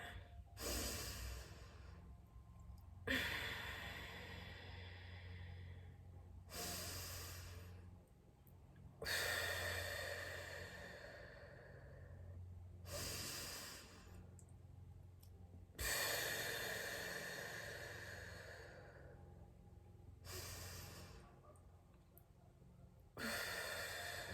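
Deep, slow breaths during a guided breathing exercise, long drawn inhales and exhales repeating in a steady cycle, close and clear over a faint low hum, with no talking.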